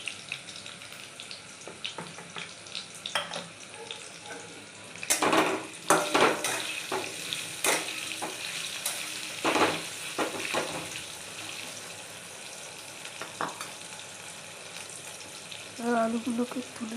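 Potatoes being fried until red in a pan with salt make a low sizzle punctuated by clattering stirs and scrapes, with a brief splash of running water near the end; talking is heard at points.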